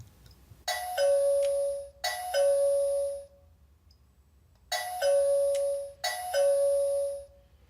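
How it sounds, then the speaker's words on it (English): Electronic doorbell chime from a Total Security WiFi alarm panel when a sensor is triggered, two-note ding-dong rung twice in quick pairs, loud and clear with silence between. "If we trigger a sensor now, the panel will produce a doorbell sound"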